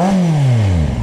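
A motorcycle with a rebuilt exhaust line revs up close and loud, then the engine note falls away smoothly as the revs drop, with a brief flutter near the end.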